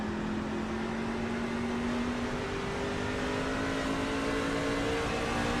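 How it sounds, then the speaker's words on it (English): A racing truck engine at Lucas Oil Raceway holds a steady, droning high-rev tone that climbs slowly in pitch, loud and continuous throughout without a break. "really pushing this truck to the limit."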